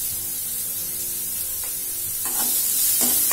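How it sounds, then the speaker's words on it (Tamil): Beetroot sautéing in a hot pan gives a steady, close sizzle and hiss, with a few soft scraping stirs near the end; no one talks. "இதை நல்லா வதக்கிடுங்க"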